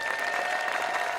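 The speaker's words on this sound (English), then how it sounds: "there was a big cheer as Maxine Hughes, who works as an interpreter with Wrexham's Hollywood owners, was also honoured" A crowd at the Eisteddfod cheers and applauds steadily for Maxine Hughes, an interpreter for Wrexham's Hollywood owners, a dense, continuous wash of clapping heard from amid the audience.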